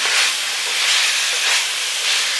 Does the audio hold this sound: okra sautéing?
yes